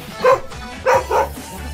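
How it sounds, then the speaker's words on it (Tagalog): A dog barks three times nearby, one sharp bark followed by a quick pair. "Ay, di aso."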